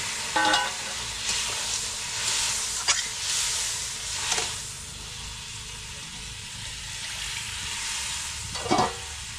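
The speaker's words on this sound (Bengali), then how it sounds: "কষানো হয়ে গেছে, এখন দিয়ে দেবো খানিকটা জল।" Water goes into sizzling spiced masala for a Bengali parshe fish curry. A steady frying hiss runs throughout, broken by a few spatters and scrapes. Faint talk sits in the background.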